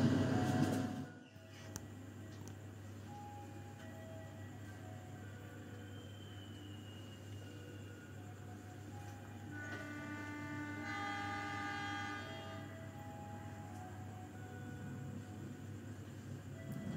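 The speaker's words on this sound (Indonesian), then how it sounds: "kereta api Kahuripan berangkat dari stasiun Banjar" The Kahuripan economy passenger train departing Banjar station rumbles steadily with a low, continuous drone, faint bell-like tones and metallic clatter rising midway, heard from close by without voices.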